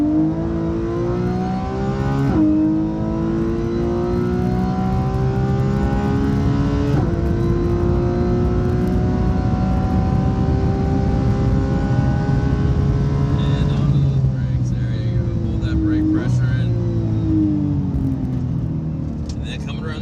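Race car engine on a track, revving up through the gears in several rising sweeps with shift breaks between them, loud and close, while a driver coach talks over it.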